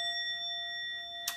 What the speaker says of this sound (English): when I ding these Tibetan bells